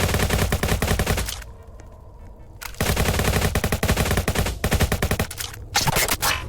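Rapid automatic AK-47 fire in the Roblox game Jailbreak, loud close bursts of fast shots broken by short pauses, with no talk over them.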